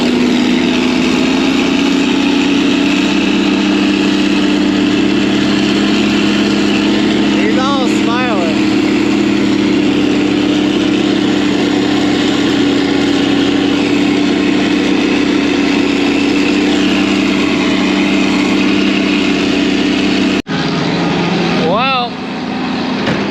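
A truck engine drones hard and steady, lugging under load while pulling across a field with a cover crop, a close, sustained low hum that dips briefly near the end.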